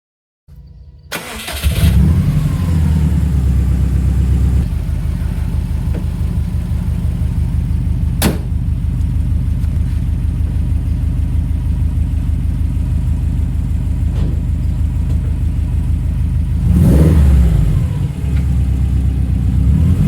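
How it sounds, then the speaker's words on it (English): A 2004 Subaru STI fitted with a VF48 turbo drives on the road, its engine a steady low drone heard from inside the car after it starts, with a brief rise near the end and no talk. "Finally got the Subaru out on the road."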